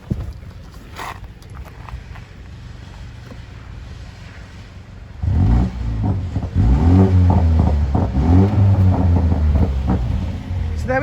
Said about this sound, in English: give you a little sound clip of the vehicle, because that's what we're all here for